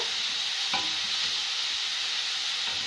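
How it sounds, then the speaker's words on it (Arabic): Chopped onion frying in a pan, a steady close sizzle and hiss running throughout with a brief stirring clatter near the start and another faintly at the end. "تتحمر بقى معايا البصلايه، انا بشراها، اقلبها بقى كويس وتتحمر معايا"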